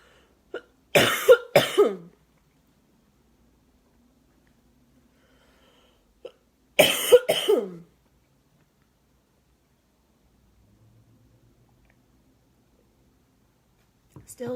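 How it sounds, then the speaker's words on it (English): Two short bursts of coughing, each a quick double cough, separated by quiet, with a faint click or breath between. "Still got the cough."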